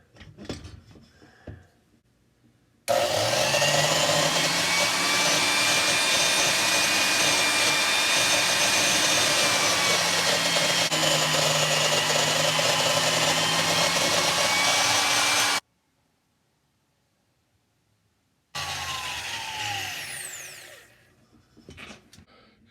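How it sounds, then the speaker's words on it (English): A valve seat being ground on a Cat 60 engine: a loud, steady whine for about twelve seconds stops abruptly, then after a short silence resumes for a couple of seconds and winds down. "So now I'm going to continue grinding the seat."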